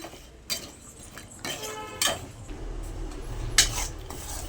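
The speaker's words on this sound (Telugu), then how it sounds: "అడుగంటుకోకుండా మొత్తం నీట్గా కలుపుకుంటూ ఉన్నాము." Melting jaggery syrup stirred in a pan makes intermittent spoon scrapes and light knocks against the metal, close by, with a soft bubbling background.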